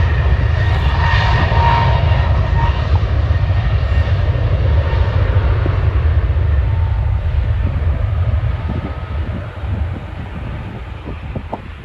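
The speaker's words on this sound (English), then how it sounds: "And there goes the A321neo." An Airbus A321neo jet airliner at Schiphol airport makes a loud, steady roar with a deep low rumble. It holds strong throughout and eases only slightly toward the end, with no voices.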